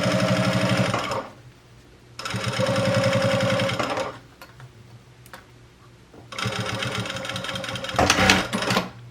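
A sewing machine stitching a seam on a fanny pack, running in three rapid mechanical bursts separated by short pauses, loud and close with a rhythmic chattering drive and a clunk near the end.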